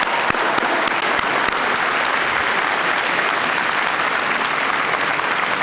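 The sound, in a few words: audience applause for the foundation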